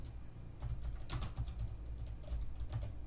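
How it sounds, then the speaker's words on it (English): Typing on a computer keyboard during a coding session: a steady, close stream of quick plastic key clicks with uneven rhythm and no voices. "So I could just give it a name and start typing right away."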